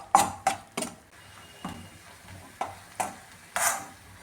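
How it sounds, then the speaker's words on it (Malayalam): Ground coconut being heated in a pan for Kerala-style beetroot pachadi, with a series of sharp scraping and stirring scrapes, about eight distinct strokes over a faint background sizzle. "ഈ തേങ്ങ ചേർത്ത് കൊടുക്കുവാണേ. നന്നായിട്ടൊന്ന് ചൂടാക്കി എടുക്കാമേ."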